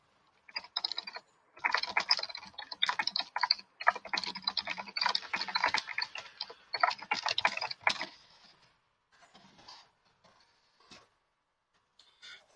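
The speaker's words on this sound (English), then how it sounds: "So let's type our question in." Rapid typing on a computer keyboard up close, dense bursts of clicking keys for several seconds that thin out into scattered taps, with no voices.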